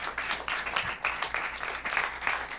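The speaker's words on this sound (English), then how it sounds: "A round of applause, please." A crowd claps in sustained applause, dense and steady for a couple of seconds, with the clapping swelling in loose waves.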